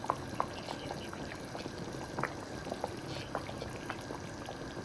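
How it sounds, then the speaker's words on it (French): Seasoning is added to a cooking pot of meat simmering for a Senegalese millet couscous, a soft continuous bubbling and pouring wash with scattered small clicks and splashes, faint and close, with no talking. "Et là, on va venir mettre notre assaisonnement"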